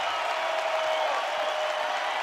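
A baseball stadium crowd at a Texas versus UC Santa Barbara game roars in a steady, dense wash of cheering and applause, sustained and fairly distant throughout.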